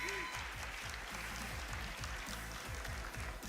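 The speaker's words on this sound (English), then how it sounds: "Game 2, the crowd erupting." A big crowd at a fighting game tournament final cheers and applauds steadily, with dense, continuous clapping and roaring that stays loud throughout.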